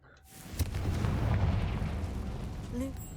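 Confringo explosive spell cast in the video game Hogwarts Legacy, a sharp blast followed by a rolling, booming rumble that swells and slowly fades, with a brief bright chime near the end.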